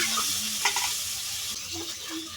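Onion fritters (peyaji) frying in hot oil while being stirred, a steady close sizzle with soft scraping stirs breaking through, no voices.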